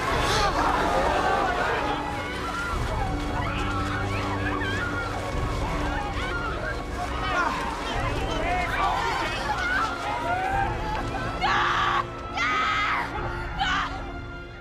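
Film extras scream and shout in staged panic on a set, a dense crowd babble of overlapping voices throughout, with sharper bursts of screaming near the end.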